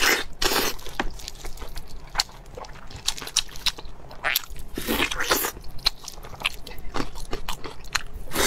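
Close, wet biting and chewing of food at a mukbang table, with repeated crunchy bites and smacking chews in a steady, uneven rhythm throughout, loud and near with no talking.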